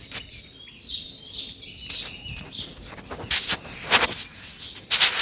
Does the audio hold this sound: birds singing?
yes